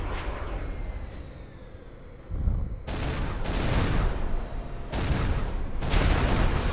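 Units trade gunfire in a Supreme Commander battle: bursts of rapid shots and booms come in waves, with short breaks between rounds and a rumbling battle bed underneath, no voices.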